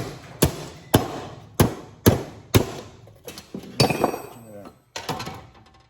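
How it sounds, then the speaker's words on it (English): Several loud hammer strikes on metal scrap from golf cart chargers at irregular intervals, followed by clinking and rattling of small scrap pieces, with a voice speaking briefly. "Just bash it with a hammer."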